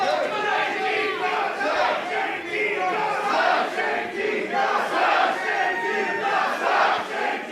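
Chaotic Wrestling fans at a live wrestling match chanting back and forth, a steady loud wash of crowd voices with rhythmic swells, no single voice standing out.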